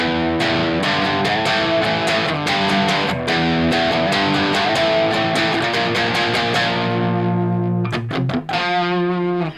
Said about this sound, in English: So I'm just going to play any standard power chords.